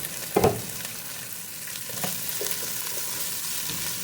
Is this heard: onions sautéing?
yes